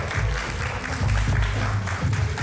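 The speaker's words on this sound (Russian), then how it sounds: "Ислам Мамергов, ваши аплодисменты." A studio audience claps in a dense, even burst that carries steadily from start to finish without a break.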